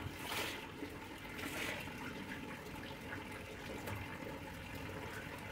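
Water drains and trickles steadily from freshly washed, wrung-out laundry, a soft continuous gush heard up close with no talking.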